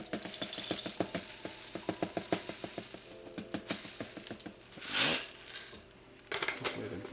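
A black pepper grinder turned over a curry pot in a home kitchen, giving a close run of rapid ratcheting clicks in a steady rhythm, then a rustle and a few scattered clicks.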